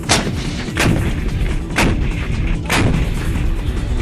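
Heavy, booming blasts from a wartime missile strike, about four loud detonations in steady succession over a rumbling background, with no voices.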